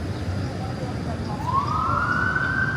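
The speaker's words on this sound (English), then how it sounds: "There's always some freaking ambulances out here, like all the time." An ambulance siren in a city street, rising in pitch and then holding a steady wail that grows louder and closer over a constant rumble of traffic.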